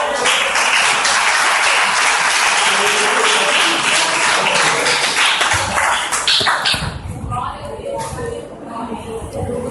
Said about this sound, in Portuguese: Você pode mais uma vez aplaudir ao Senhor.